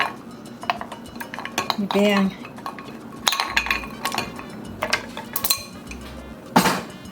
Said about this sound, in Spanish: Lo vamos a revolver, le agregamos unos cubitos de hielo.